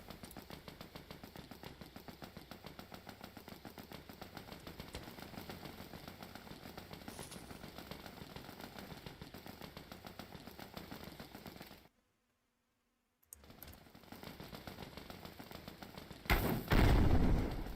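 Steady rapid gunfire in the Dead Frontier video game as bandits are shot, a continuous rattling stream that cuts out briefly to silence, then resumes and ends with a louder, harsher burst.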